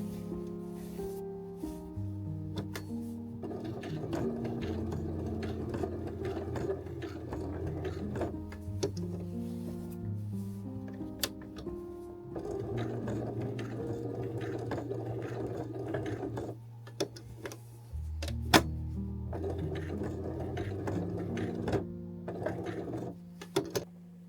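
A sewing machine runs a straight stitch to secure small fabric flowers, in steady bursts of rapid mechanical whirring and ticking separated by brief pauses, close and moderately quiet.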